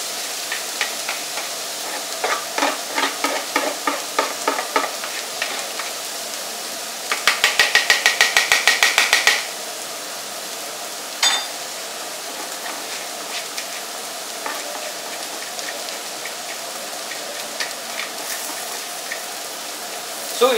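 Rice stir-fried in a hot pan for fried rice: a steady sizzle with scraping and tapping of a utensil, including a quick burst of rapid clatter, close and fairly loud.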